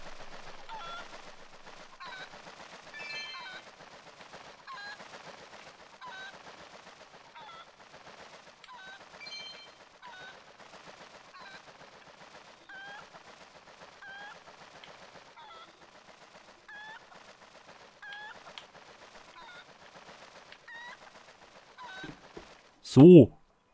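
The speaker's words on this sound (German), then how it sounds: "Das Huhn wirkt ein bisschen panisch." Panicked chicken clucking in the video game Zelda Twilight Princess HD, a string of faint, repeated squawks and clucks spread through the stretch, with a sudden loud burst at the very end.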